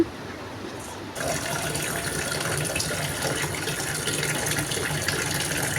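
Water pours steadily into a cooking pot for rice after a brief quiet start, a continuous gushing rush that keeps going.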